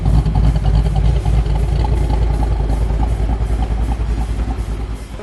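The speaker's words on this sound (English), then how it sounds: "the new Thumpr cams from Comp Cams have made a real difference in the auditory presence of this Mustang" A 2006 Ford Mustang GT V8 fitted with Comp Cams Thumpr cams idles loudly and close, with a deep, lopey, uneven rumble and a few light blips of the throttle.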